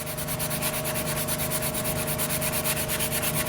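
Hand sanding stained wood with 120-grit sandpaper makes close, rhythmic rubbing strokes, a steady back-and-forth scratch repeating several times a second with no talking.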